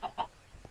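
Two quick soft clucks close together from Minecraft chickens, followed by a faint third note, brief and quiet.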